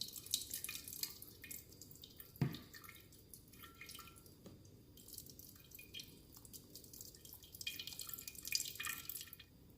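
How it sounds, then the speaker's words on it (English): Blended cucumber liquid, made from three cucumbers and about seven cups of water, trickles and drips faintly through a wire mesh strainer, with one sharper splash early on. "pass it through a wire mesh strainer"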